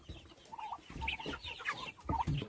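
Two-month-old Redbro chickens clucking softly in a pen, a few short clucks and murmurs from nearby birds with no talking.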